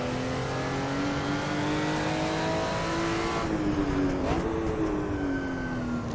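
A Porsche 935 Moby Dick race car in Assetto Corsa roars steadily under load, its turbocharged engine loud and close with rising and falling revs and a brief shift partway through.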